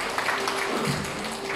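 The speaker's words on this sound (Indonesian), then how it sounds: "Tepuk tanganlah untuk Tuhan." Congregation clapping at a tenth-anniversary church gathering, a brief, even burst of applause filling the room.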